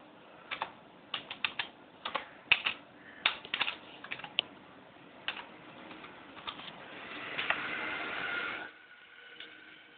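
A computer keyboard is tapped in irregular quick clusters while a name is typed, close and soft clicks with short pauses, ending in a brief denser rattle.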